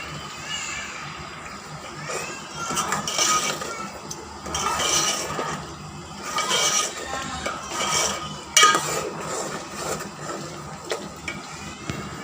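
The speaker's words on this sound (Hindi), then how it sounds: "और फिर हम इसको थोड़ी देर तक अच्छे से भूनेंगे।" Beef nihari masala is being fried and stirred in a pot, with steady sizzling under repeated scraping and clinking of a spoon against the metal, close and fairly loud, with no talking.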